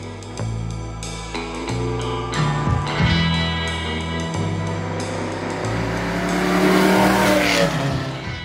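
A 1965 Shelby GT350 Mustang V8 revs hard on a Los Angeles street, a loud, close engine climbing through rising gear pulls with a rough, throaty exhaust note and brief tire chirps, no voices over it.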